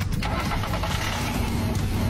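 A car engine runs steadily up close, a continuous low rumble that holds evenly throughout, on a car that shakes badly and won't speed up when the accelerator is pressed.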